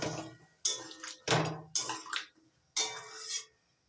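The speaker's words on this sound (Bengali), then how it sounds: "এবার দিচ্ছি পরিমাণ মতো জল" Water poured into a pan of peas and paneer while cooking, several short splashing pours in quick bursts, close and moderately loud, with pauses between each.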